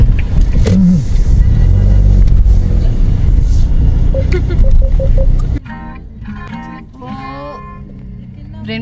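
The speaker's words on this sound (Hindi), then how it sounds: "गाड़ी पार्क करते हैं" A car drives and pulls in to park at Odaiba beach in Tokyo, a loud engine rumble with road noise that cuts off abruptly midway, leaving quieter ambience with faint chirps and voices.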